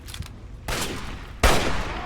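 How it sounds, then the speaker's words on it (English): Video game shootout gunfire: two loud bursts of shots stand out, each holding for a moment against quieter background noise, with the second burst the sharpest and heaviest. "This is like one of the worst shootouts in history"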